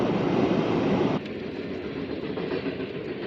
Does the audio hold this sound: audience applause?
no